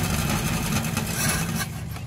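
A UAZ off-roader's engine runs steadily after being restarted following its submersion in a river, a continuous rough low-pitched drone close by with no pauses.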